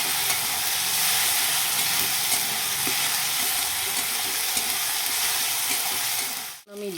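Spice paste with ground cumin is sautéed in a pan, giving a loud, steady close sizzle with faint stirring, until a brief dip near the end.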